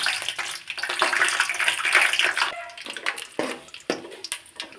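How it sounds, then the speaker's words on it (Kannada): Peanuts hitting hot oil in a pan while making North Karnataka churumuri: a steady, busy crackle and hiss that holds for a few seconds, then thins into broken spatters near the end. "ಎಣ್ಣೆ ಕಾದೈತ್ರಿ. ಈಗ ಶೇಂಗಾ ಹಾಕೊಳ್ಳೋಣ ರೀ."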